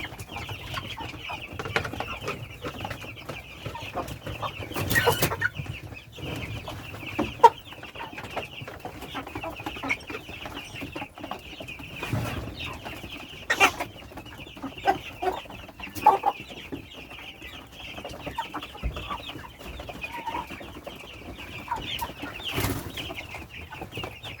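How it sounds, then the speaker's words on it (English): Chickens cluck inside a poultry farmer's coop in Trelawny, Jamaica, a busy flock of soft, scattered clucks and calls at moderate distance over a steady hum, with occasional louder knocks and no talk. "he's in his chicken coop"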